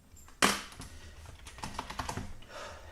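Someone types on a computer keyboard, opening with a sharp thump and then a quick, uneven run of close key clicks, moderately quiet.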